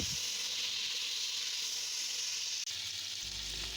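Garlic ginger paste fries in a pan for curry, giving a continuous steady sizzle and hiss at moderate level close by, with a brief break near the end.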